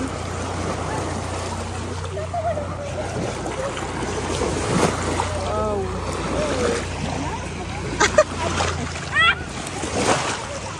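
Sea waves wash and splash at a beach at Station 1, Boracay, a steady rolling surf with louder surges toward the end, heard under people talking nearby.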